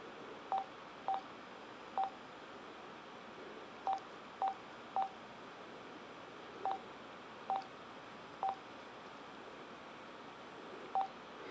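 Telephone keypad dialing tones, a run of short, evenly pitched beeps in irregular bursts, singles and quick pairs, over a steady faint line hiss with no voices.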